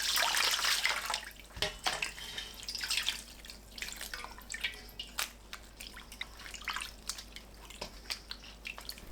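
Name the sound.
rinsing dried pollock under running water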